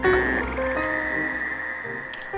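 Fowler's toads and gray tree frogs calling at a pond, a continuous high trilling chorus with scattered nearer croaks over it.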